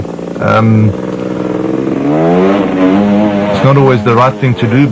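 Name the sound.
off-road racing motorcycle engine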